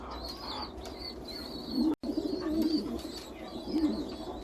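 Pigeons at the nest, a father pigeon feeding its chicks, give soft, close cooing and low throaty calls in a continuous murmur.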